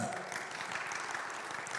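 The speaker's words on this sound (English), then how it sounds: "Don't applaud too loud" An audience in a church gathering claps in a soft, steady patter of applause, faint and continuous for a brief moment.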